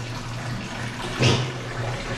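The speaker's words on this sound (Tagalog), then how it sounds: "Maapa na yung tubig." Water runs steadily into a container as it fills toward overflowing, a continuous close rushing and trickling with a brief louder splash partway through, and no talking.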